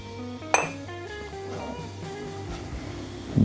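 Metal utensils clink against a small dish and scale while salt, sugar, pepper and four-spice are weighed out for seasoning foie gras, one sharp clink followed by faint scraping and a soft knock at the end.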